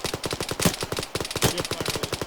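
Machine gun fire during jungle military training, rapid regular bursts of close, loud automatic shots continuing without pause.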